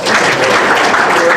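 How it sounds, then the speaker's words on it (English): Audience applause at a 2017 men's soccer awards reception honoring All-Missouri Valley Conference honorable mention selections: a dense, steady wash of clapping filling the room, loud and continuous throughout the brief moment. "let's give one more round of applause to our 2017 All-Missouri Valley Conference Honorable Mention selections"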